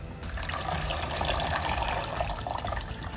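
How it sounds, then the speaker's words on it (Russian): Water poured out of a tray used for soaking orchids, a steady close splashing trickle running continuously for a few seconds with no talk. "я выливаю эту воду, помою поддон потом"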